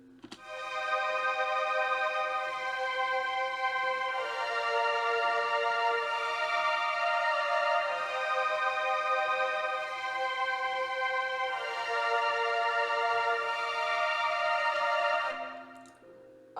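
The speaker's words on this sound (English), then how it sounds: "add a strings melody from Purity. I used this preset called chord strings" Synth string melody from the Purity chord strings preset, a sustained bright chordal pad playing a slow melody for about fifteen seconds before fading, with no voices.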